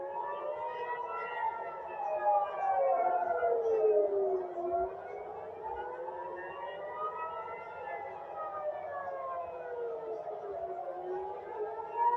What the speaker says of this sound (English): The air sirens are going back off.